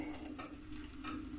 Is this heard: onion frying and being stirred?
yes